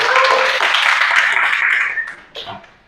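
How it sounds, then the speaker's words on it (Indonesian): Classmates in a grade 12 mathematics classroom applaud a student with dense, lively clapping for about two seconds before it thins out, and a few voices can be heard. "Tepuk tangan untuk Muhammad Darwin semuanya."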